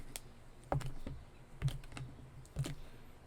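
A knife chops through a block of cheese into small squares for smoked queso, giving three or four soft, separate taps on a cutting board, faint and close, with no talking.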